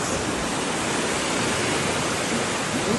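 Flowing water from a stream in northeast Israel rushes in a loud, constant, broadband roar with no breaks and no voices.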